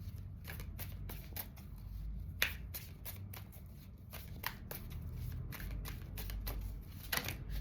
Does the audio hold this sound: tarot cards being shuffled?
yes